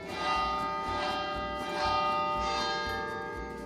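Church bells ringing in an Italian town, rich sustained tolling with repeated strikes about every three-quarters of a second, loud and close, layered over a continuous ringing hum.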